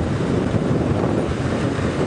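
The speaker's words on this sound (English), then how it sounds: "Getting very, very windy now," Strong wind on a sunrise safari drive buffets the microphone with a steady, loud roar and rough gusty rumble, no voices.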